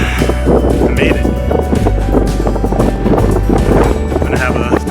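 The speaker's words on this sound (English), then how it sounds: "It's really windy up here" Strong wind buffets a hilltop among rolling hills, rumbling and gusting hard against the microphone throughout, with a voice breaking through in places.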